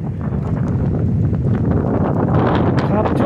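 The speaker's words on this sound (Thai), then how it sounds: "ลมแรงมากเลย" A strong summer-evening wind in San Francisco buffets the microphone with a constant loud, rough rumble, and a voice speaks under the gusts.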